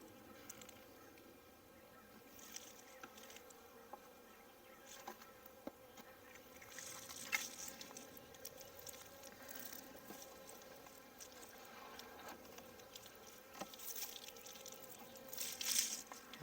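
Honey bees around two hives during an inspection, one hive on brand new foundation: a steady, faint swarm hum with brief louder passes of individual bees near the microphone, no talking.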